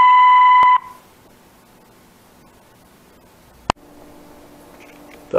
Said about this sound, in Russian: Оставьте сообщение так, после сигнала.